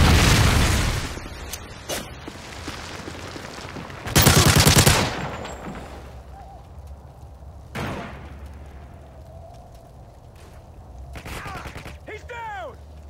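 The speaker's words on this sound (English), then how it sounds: "Friendly Predator missile inbound" Game explosions and gunfire from a Predator missile strike during a hardcore team deathmatch in Call of Duty Modern Warfare 3, with a heavy booming blast near the four-second mark among scattered loud shots and bursts, plus a faint voice.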